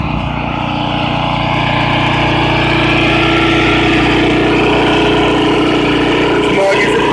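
A Sutech Stealth 33-inch walk-behind lawn mower engine runs steadily up close, a loud continuous drone with a low throbbing hum that holds throughout.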